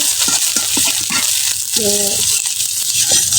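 Chopped onions fry in a pan with a continuous hissing sizzle, stirring clatter and scraping over it, while a voice talks through the cooking.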